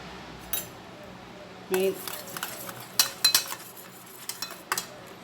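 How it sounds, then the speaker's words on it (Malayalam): Ghee is worked into biscuit ingredients in a bowl, heard as a series of close clinks, scrapes and taps from a spoon against the bowl in irregular bursts after a quiet start. "അത് നമുക്ക് ഈ നെയ്ക്കകത്ത് നല്ലോണം നെയ്യൊന്ന് മിക്സ് ചെയ്യണം."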